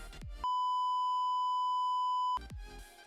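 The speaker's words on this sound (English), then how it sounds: "It's a little slow to the beep there." A steady pure electronic beep tone, loud and sustained for about two seconds, cut off cleanly with brief bursts of other sound before and after it.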